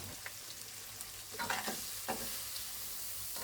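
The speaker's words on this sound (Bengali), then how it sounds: "এখন আমি পেঁয়াজটা দিয়ে দিব।" Sliced onions, with green chillies, fry and sizzle in hot oil in a pan for a shol fish curry, a steady close crackle broken by a few stirring scrapes, no voices.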